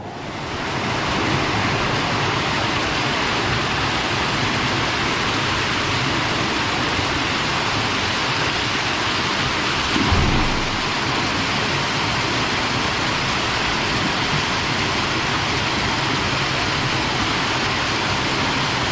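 A river swollen by inflowing tributaries rushes in a loud, continuous broadband roar of water that stays steady and close for the whole stretch, with no voices.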